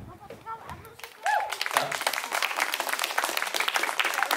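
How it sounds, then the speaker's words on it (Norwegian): Outdoor crowd at an event in Sponvika clapping on cue, a voice calls out briefly, then a burst of lively applause and cheering starts and carries on steadily to the end. "Og først kan dere klappe på meg"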